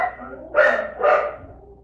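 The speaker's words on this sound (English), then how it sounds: "I got my dogs upstairs going crazy." Several dogs barking in an upstairs room, two loud harsh bursts close together, muffled slightly by distance, with no talk over them.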